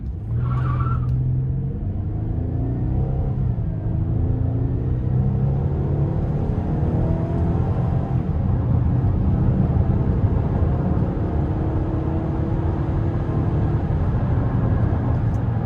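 A 2017 GMC Acadia Limited SLT with a front-wheel-drive 3.6 V6 accelerating hard, engine note rising steadily in pitch through the gears under a constant road rumble, heard from inside the cabin with no talking.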